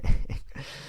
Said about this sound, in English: Sorry for the barking, everybody.